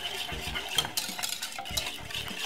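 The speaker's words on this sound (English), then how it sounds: "And give it a stir." Lasagna sauce with milk and a little cheese being stirred in a pot, a close run of utensil scrapes and soft clinks against the pot over a faint simmer.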